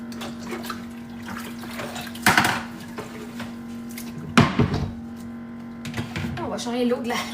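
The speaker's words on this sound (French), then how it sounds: "On va changer l'eau de la vaisselle" Dishwater sloshes and splashes in two brief bursts over a steady background hum while dishes are washed in a sink, with soft talk in the room.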